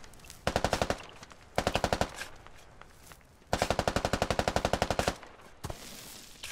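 Video game automatic gunfire in bursts: four rapid volleys of sharp, evenly spaced shots, loud and close, with brief quiet gaps between them.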